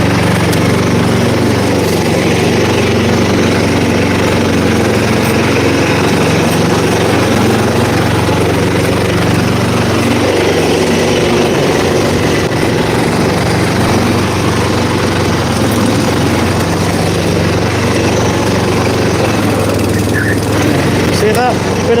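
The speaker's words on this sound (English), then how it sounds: "You can hear the engine." A lawn scarifier's engine runs close by on a lawn, a loud, steady mechanical drone that holds unbroken from start to finish.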